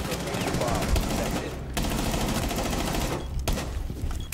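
Rapid automatic bursts from an SMG-12 submachine gun in Rainbow Six Siege, loud and close, with two brief pauses between long strings of fire and a voice speaking underneath.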